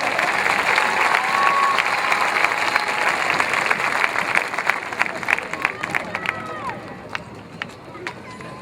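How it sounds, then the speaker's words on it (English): A graduation ceremony crowd gives sustained, dense applause for the top ten graduating students, with a steady wash of many hands clapping and a few louder claps standing out near the end. "Let's give them a huge round of applause."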